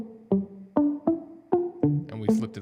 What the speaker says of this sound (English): And this is a guitar